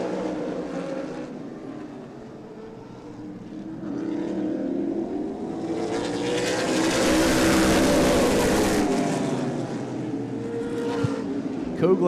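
Outlaw Super Late Model race cars roar around the Angola Motorsport Speedway during a 40-lap feature, a continuous engine drone that swells louder mid-pass as the pack goes by, with no talk over it.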